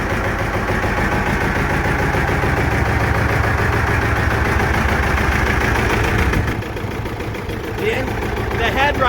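A John Deere R tractor's diesel engine runs after a pony-motor cold start, with a loud, steady, low chugging idle that thins out near the end.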